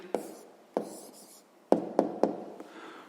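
A pen marks an answer on paper during a sixth-grade maths exercise, a few sharp tapping strokes followed by scratchy scribbles, close and fairly quiet with no voices.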